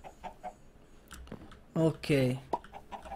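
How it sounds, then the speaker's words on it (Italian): Minecraft chickens cluck in a short burst of two or three calls, mid-loud against quiet game ambience, with faint keyboard clicks and a brief spoken word nearby. "La gallina che caga le uova."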